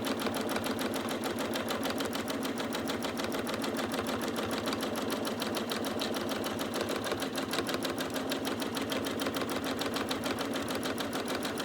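A sewing machine stitches rapidly and evenly during free motion quilting, a dense mechanical chatter running at constant speed throughout, close and unbroken.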